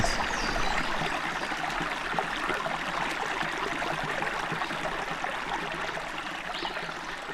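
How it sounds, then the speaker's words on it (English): A small waterfall and stream in the Mississippi woods give a steady, broad rushing hiss of flowing water, constant and fairly close, with no voices. "Done found us a waterfall."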